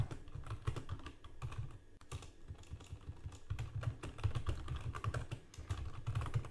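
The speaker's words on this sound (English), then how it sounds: "By the way, I'm a fast typer." Rapid, steady typing on a computer keyboard, a dense stream of close key clicks with no pauses and no talk.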